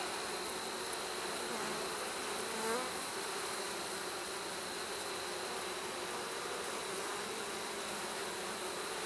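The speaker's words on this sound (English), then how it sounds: "I'm seeing a lot of bees in this hive." A constant, dense buzzing of many honey bees on a hive frame fills the air, steady and close throughout.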